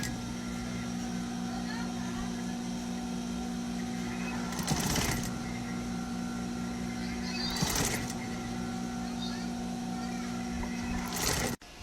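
A sewing machine stitches fabric with a steady, close mechanical hum that runs throughout, broken by a few brief louder rattling bursts.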